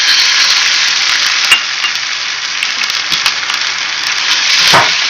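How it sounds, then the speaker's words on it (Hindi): Ginger garlic paste frying with onions in a pan, a loud, continuous close sizzle with occasional sharper pops and spatters and no voices. "इसको थोड़ा सा कर लेंगे फ्राई"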